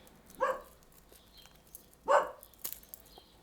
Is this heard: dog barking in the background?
yes